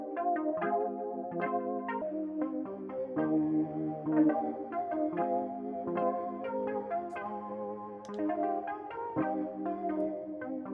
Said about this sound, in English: Can also do the distortion or the digital effects here.